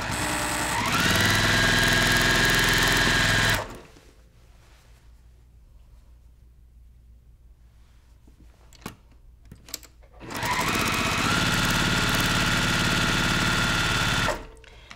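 A sewing machine stitches a Maple Leaf quilt block at a 2.0 stitch length, running in two loud, steady bursts of about three and four seconds with a quiet gap of small handling clicks between them.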